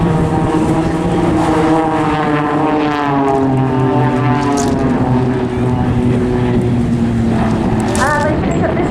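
Blades display team propeller aerobatic aircraft rolling at an airshow, a loud sustained engine drone with shifting, bending pitch, heard under an announcer's commentary.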